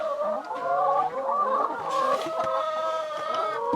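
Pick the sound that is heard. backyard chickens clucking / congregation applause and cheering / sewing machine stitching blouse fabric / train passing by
backyard chickens clucking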